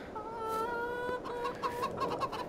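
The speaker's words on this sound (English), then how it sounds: "So take a look at the chickens quickly." Chickens of mixed varieties cluck in a farming video game, a close sustained call followed by a run of rhythmic clucks with no talk over them.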